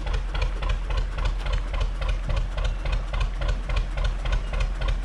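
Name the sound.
Gardner 2LW engine of a canal boat running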